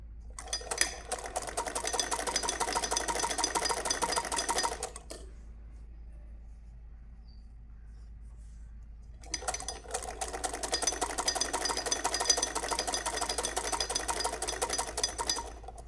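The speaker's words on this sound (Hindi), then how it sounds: "ये सिलाई कर लेनी है पूरी प्रॉपर।" A sewing machine stitching a sleeve runs in two long, steady bursts of rapid needle clatter, separated by a quiet pause of about four seconds.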